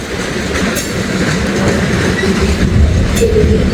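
A CPKC freight train rolls past with a steady, loud rumble and clickety-clack from its wheels. It sounds close and continuous, with faint squeals over the din and no talk.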